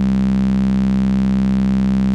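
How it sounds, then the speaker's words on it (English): A sustained low C synth or instrument note with its third harmonic boosted by static EQ holds steady and loud for about two seconds, a dense buzzy tone with no other sound. "if I boost that third harmonic of that low C"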